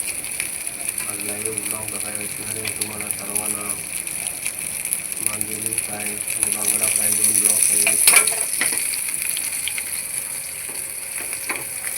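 Mandeli fish shallow-frying in hot oil, a dense continuous crackling sizzle that swells briefly near the end with scattered pops, close up, with a faint voice over parts of it.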